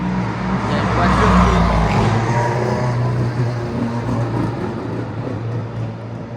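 A car firing up at the Spa-Francorchamps circuit, a loud low engine rumble that swells and then settles into a steady idle, with a voice talking over it.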